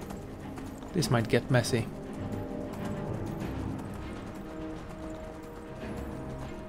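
A horse's hooves clip-clop in Skyrim in a short quick cluster near the start, then fade into a low background while someone talks.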